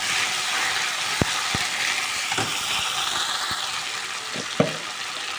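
Fish oil and fish eggs sizzling as they fry in a pan, a steady bright hiss with a few sharp clicks and taps from stirring scattered throughout.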